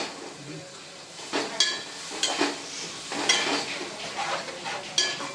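A spoon scrapes and stirs masala around a pan with soft, irregular clinks and scuffs, close and moderately loud, alongside a faint sizzle.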